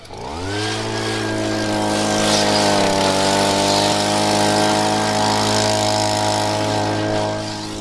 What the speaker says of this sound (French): C'est bon, le souffleur a démarré.